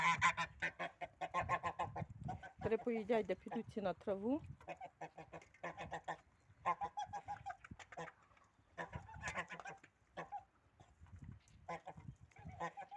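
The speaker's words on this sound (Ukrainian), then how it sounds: "Ще два гусаки." Geese honking in a rapid, nasal run, fairly close, with a person talking intermittently before and after the calls.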